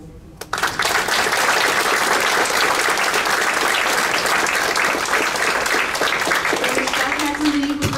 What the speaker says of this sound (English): Can we give him another applause?